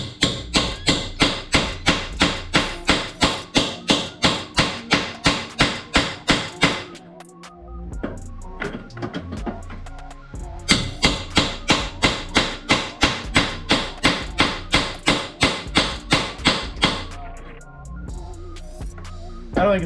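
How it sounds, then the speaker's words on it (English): A steady run of sharp hammer blows on a metal tool seated on a stud while repairing a BMW E46, fast and evenly spaced, pausing once midway before the pounding resumes, loud and close. "Let's take a whack at it."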